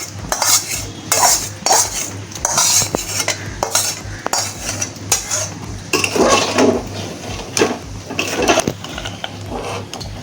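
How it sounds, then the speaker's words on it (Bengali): Hot tempering with kasuri methi poured into dal, followed by repeated metallic spoon clinks and scraping against the pot in irregular bursts, close and fairly loud with a faint sizzle beneath. "এবার এইটা আমরা ডালের মধ্যে ঢেলে দেব।"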